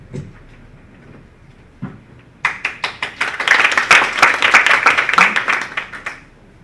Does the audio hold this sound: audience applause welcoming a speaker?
yes